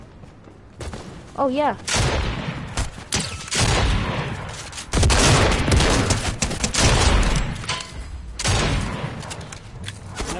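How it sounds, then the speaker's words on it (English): Bursts of rapid gunfire in Fortnite squads crackle in repeated volleys, with short pauses between them and a voice speaking briefly over the shooting. "I hear gunshots"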